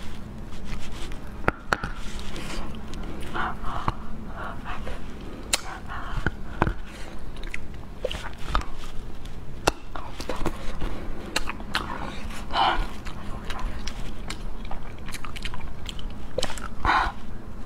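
Close biting and chewing of a frozen sweet cake, with crisp crunches and wet mastication sounds repeating irregularly throughout, alone and up close.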